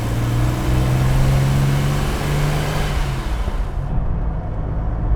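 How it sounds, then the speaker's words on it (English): A Ford Capri Mk I 3000 GT XLR's engine hums steadily while driving, a low, even drone mixed with road noise that stays fairly smooth and subdued before the sound cuts off abruptly near the end. "Engine's really quiet."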